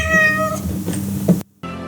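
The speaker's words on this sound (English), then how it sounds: "Yoga kitty always needs to be part of the fun." A pet cat meows loudly and close by, drawn-out plaintive cries running together, then a brief silence before another begins.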